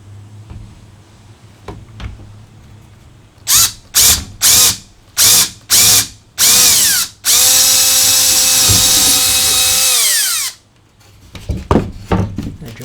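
A power drill bores out a hole in the metal rib of a Ram ProMaster van for an M6 rivnut, starting with several short loud trigger bursts, then a sustained three-second whine as the bit cuts, followed by quieter handling clatter.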